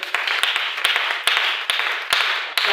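A church congregation claps and cheers for God, a dense steady wash of applause with sharp louder claps punctuating it, sustained throughout.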